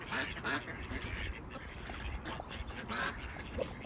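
A Muscovy duck gives several rough, raspy quacks, with a couple of louder calls near the start and another toward the end. The calls are close and moderately loud over a steady, noisy outdoor background, and no voices are heard.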